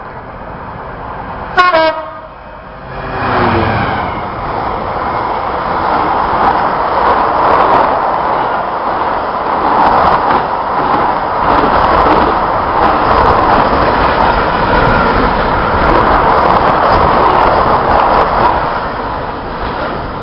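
An EWS Class 66 diesel locomotive runs through a station platform at Banbury, opening with a brief horn toot, then a loud, steady rumble and wheel-on-rail clatter that holds close and continuous to the end.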